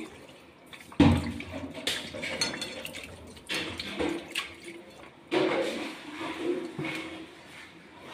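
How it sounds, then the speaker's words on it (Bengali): Water is poured into a metal dish of raw fish mixed with oil, splashing and trickling close by with clinks of the pan, a louder pour near the start and again midway. "পানি দিয়ে দিচ্ছি"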